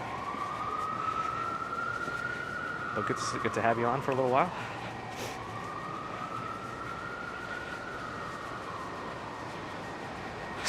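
A police siren wails along a New York City street near Hudson Yards, rising and falling in long sweeps at moderate distance, with a brief burst of horn-like yelps midway, under someone talking.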